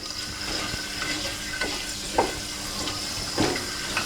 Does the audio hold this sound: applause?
no